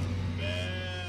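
A sheep from a flock gives a drawn-out, wavering bleat, close and fairly loud, lasting about a second with no talking over it.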